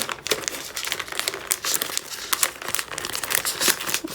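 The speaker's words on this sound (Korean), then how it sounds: "꼭지점을 맞춰서 내리고 이렇게 접어주세요." A single sheet of paper is folded into an origami peacock, with close, crisp crinkling and rustling as the corners are lined up and creased down. There are no voices.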